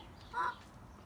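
A young chicken in an urban backyard coop in Houston gives a single short, faint squawk against quiet background hiss.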